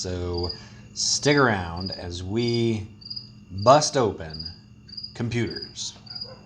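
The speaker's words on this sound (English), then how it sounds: "you can probably hear a cricket chirping right now in the background" A cricket chirps in a garage, a faint, regular high pulse repeating in the background while someone talks continuously over it.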